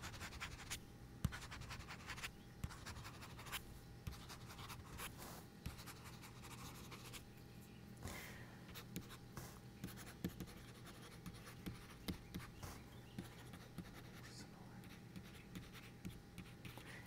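A stylus pen scratches across the screen of a Remarkable 2 e-ink tablet in continuous quiet strokes with small taps and scrapes, faint and close with a low steady background hum.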